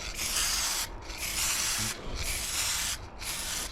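An aerosol can sprays lacquer onto a car panel in four long hissing bursts with short pauses between them, close and clear with no talk.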